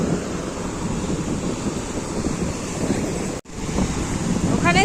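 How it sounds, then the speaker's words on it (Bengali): Ocean waves roll onto the beach at Puri in a constant roar, with heavy wind buffeting the microphone and a brief dropout near the end. "বড় বড় ঢেউ আসছে জলে"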